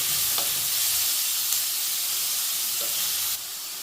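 Onions fry with salt in a pan for a masala paneer curry, making a loud, continuous sizzle up close, with a couple of faint stirring scrapes beneath it.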